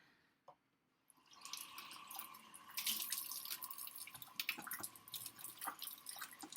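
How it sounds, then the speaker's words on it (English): A kitchen tap runs while hands are washed with soap, a faint drip followed by a steady, quiet stream of water with light splashing and hand movement, heard alone without talking. "It's time to wash my hands because I'm going to be touching the dough again."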